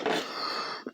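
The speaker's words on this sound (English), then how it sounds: "Sorry about the coughing." A single short, raspy cough, close and fairly quiet, followed by a brief catch of breath.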